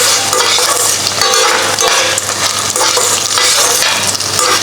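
Peanuts, cashews and dried red chillies fry in hot oil, a steady dense sizzle with stirring scrapes throughout, close and loud, with no voices.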